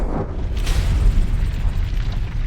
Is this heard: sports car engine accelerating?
no